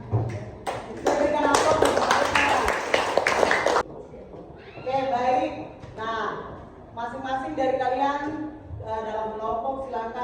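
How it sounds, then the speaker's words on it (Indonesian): An audience applauds a group presentation in a classroom with a dense burst of clapping for several seconds, then voices speak over quieter room sound. "Berikan aplaus untuk mereka"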